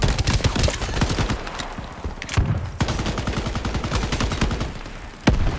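Rapid gunfire rattles through a firefight in the game Shatterline, with dense automatic bursts of close, loud shots and a few heavier impacts, continuing almost without pause.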